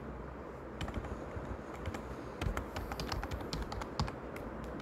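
Close, fairly quiet clatter of a computer keyboard as a project name is typed, irregular runs of keystrokes with small pauses between words.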